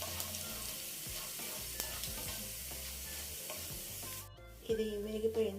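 Dry red chillies, cumin seeds and green gram dal frying in hot oil for a cauliflower fry tempering, a steady close sizzle with scraping stirs, briefly dropping before a louder burst of crackling near the end.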